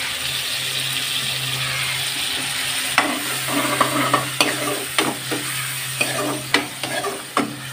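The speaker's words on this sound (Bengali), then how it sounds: "লাল করে ভেজে নেব।" Onion and garlic frying together in a pan, a steady sizzle with repeated stirring scrapes and clicks of a utensil against the pan, close and clear, no talking.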